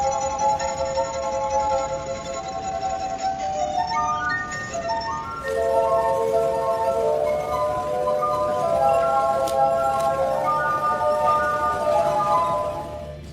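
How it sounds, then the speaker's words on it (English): A street performer plays a glass harp of 33 water-filled glasses by rubbing their rims with wet fingers. Sustained, pure ringing tones overlap in a slow, steady melody, clear and close, with no talking. "All you have to do is touch them with wet fingers, and the glass harp will sound."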